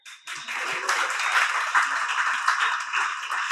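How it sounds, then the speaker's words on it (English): Women in the audience at a security company's quarterly award ceremony clap and cheer loudly, a dense burst of applause with whoops that starts abruptly and carries on at full strength. "Ladies, cheer now."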